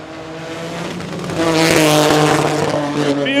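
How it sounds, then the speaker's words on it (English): A rally car at the Overmountain Rally at Newport Speedway, Tennessee, holds its engine on the rev limiter into a banked corner, a loud sustained buzzing drone with stuttering harmonics that swells as the car draws nearer. "on the rev limiter all the way into the bank corner"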